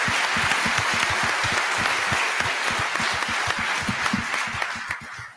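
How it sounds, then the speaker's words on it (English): An audience at a congressional candidate forum gives a round of applause, with many hands clapping in a full, steady rhythm that carries on for several seconds, then begins to thin and fade at the end. "Give them all another good round of applause."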